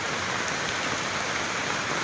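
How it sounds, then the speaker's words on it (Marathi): Heavy monsoon rain in Donivade village, Konkan, pours down in a dense, unbroken roar, loud and close, with no other sounds. "पाऊस प्रचंड आहे"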